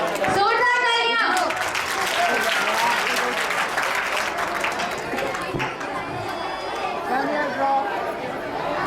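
Audience applause at a school Republic Day celebration, steady loud clapping from a crowd filling the whole stretch, with a voice and chatter mixed in near the start and murmuring beneath.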